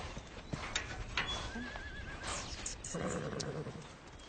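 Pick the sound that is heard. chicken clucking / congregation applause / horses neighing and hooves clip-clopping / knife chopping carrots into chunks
horses neighing and hooves clip-clopping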